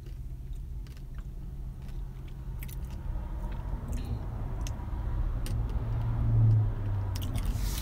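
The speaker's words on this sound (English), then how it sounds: "Is this crunching loud?" Loud, close crunching of chewing crackles steadily and irregularly over a low rumbling background, with no talking.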